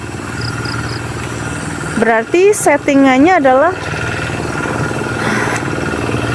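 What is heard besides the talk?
tractor engine running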